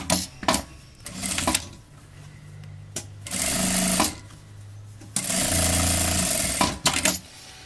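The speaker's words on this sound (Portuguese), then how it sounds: "vou passar uma costura aqui" A sewing machine runs along a backpack lining seam in several bursts: a few quick taps, then two longer steady runs of stitching separated by pauses, close by.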